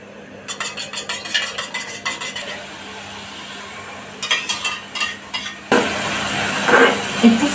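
A spatula scrapes and clinks against a pan while masala and egg are mixed, in two bursts of rapid metallic stirring, then a louder, steady sizzle takes over near the end; no one speaks.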